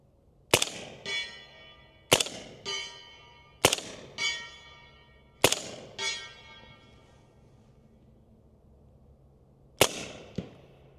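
Five sharp suppressed rifle shots through an Omega 300 silencer on a short barrel, each a crisp crack with a ringing metallic tail and a faint echo, spaced a second or two apart with a longer pause before the last one.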